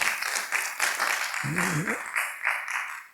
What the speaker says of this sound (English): Please, let's acknowledge him with a round of applause.